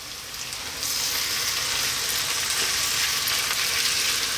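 Lamb and garlic sizzle in olive oil in a pan, a steady bright hiss that swells louder about a second in as the meat hits the hot oil and continues evenly without speech.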